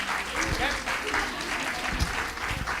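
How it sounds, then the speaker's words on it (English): Applause for a group of children at a Chinmaya Vrindavan Balavihar event, a steady mid-level patter of many hands filling the room with some murmuring voices underneath. "A big round of applause for these kids."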